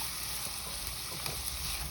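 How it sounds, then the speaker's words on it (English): Vegetables sauté in a hot pan for a veggie lasagna, giving a soft, steady sizzle with faint crackles throughout a brief moment, no talking over it. "we're going to go ahead and let that saute down some"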